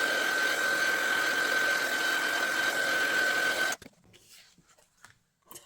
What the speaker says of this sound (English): I'm going to run that through my die cutting machine.